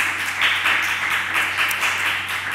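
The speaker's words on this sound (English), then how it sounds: "So I want to give you a quick round of applause." Audience applause at a library talk, a steady, even wash of many hands clapping for a couple of seconds without talking.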